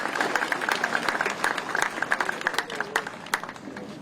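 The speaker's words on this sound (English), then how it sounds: "Give them a round of applause." An audience claps for a university Army ROTC company at a public event, giving moderate, uneven applause with scattered individual claps and some murmuring voices.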